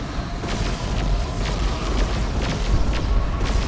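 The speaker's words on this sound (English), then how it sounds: "That's an Eldritch Storm." Eldritch Storm ability exploding in Dawn of War 2, a continuous rumbling roar with repeated crackling bursts at a steady loud level throughout, mixed with battle noise.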